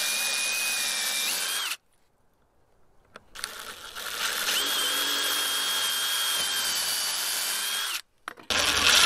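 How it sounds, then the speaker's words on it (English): A power drill pre-drilling screw holes in a garden frame whirs in two steady bursts, the second longer, with a short quiet gap between and a brief restart at the end; close and loud. "I'll just pre-drill these really quick."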